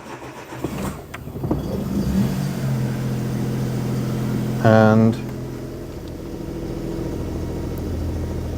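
A Daewoo Matiz nicknamed Myrtle cranks and fires up under a rumbling engine idle, with a brief loud burst mid-clip, while a person talks over it.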